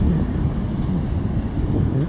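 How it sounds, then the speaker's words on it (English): Wind gusts across a beach campsite at Cape Lookout, North Carolina, rumbling and buffeting against the microphone in a constant low roar, with no voices. "The wind's just enough to keep any bugs away"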